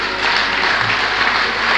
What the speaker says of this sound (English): We should all applaud what he has done